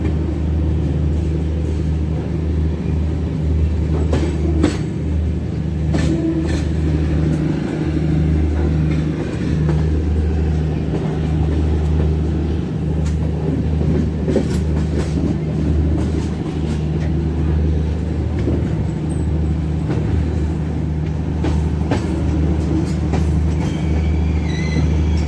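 Kaifiyat Express train 02226 running from Ayodhya toward Shahganj, a steady loud rumble of wheels on rails with a constant low drone and occasional clanks throughout.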